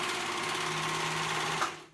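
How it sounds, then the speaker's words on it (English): A sewing machine runs steadily as it stitches the short raw edge of a romper fabric, a close, even mechanical hum lasting nearly two seconds before it stops abruptly. "we're gonna sew that short raw edge"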